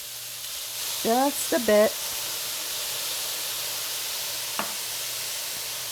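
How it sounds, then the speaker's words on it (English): Soy sauce added to a stir-fry sizzles in a pan as a steady, faint hiss running throughout, while a voice speaks briefly near the start. "we're going to add in our soy sauce"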